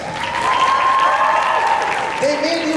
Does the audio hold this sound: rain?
no